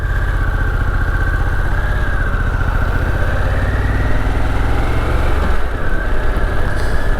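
A 2022 Harley-Davidson Pan America motorcycle engine idles steadily and loudly up close, a continuous even rumble with no talking.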